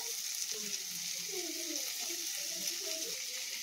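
Chopped capsicum frying in a pan makes a constant close hiss and sizzle, with soft clinks and scraping as it is stirred, and no talking.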